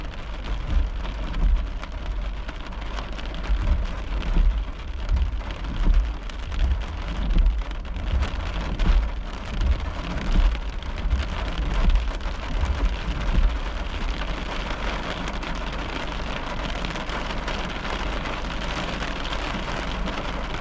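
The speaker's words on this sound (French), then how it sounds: "En effet, il pleut de plus en plus fort." Steady, heavy rain from a thunderstorm pours down in a continuous rushing hiss, with low rumbling underneath throughout.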